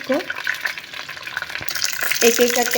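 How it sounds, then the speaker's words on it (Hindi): Stuffed brinjal frying in hot ghee, a close, steady sizzle with soft stirring and scraping noises, briefly intensifying toward the end. "तीन चम्मच हम लोग घी के डाल लेंगे और इसको अच्छे से फ्राई कर लेंगे।"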